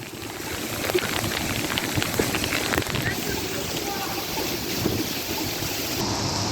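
Heavy rain and flash-flood water rush across a road in Phoenix, a steady broadband roar of pouring and surging water held close and loud throughout, with faint voices underneath.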